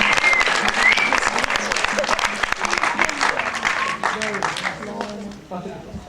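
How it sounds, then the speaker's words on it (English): A film festival audience applauds loudly in a hall, dense clapping that gradually thins and fades toward the end, with voices murmuring underneath. "I think she deserves another round of applause for acting"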